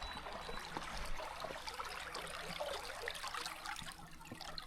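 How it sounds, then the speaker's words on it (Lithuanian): A small stream flows past a boat on a river, giving a soft, continuous trickling and burbling that stays close and fairly quiet throughout. "Toks gražus upelis teka."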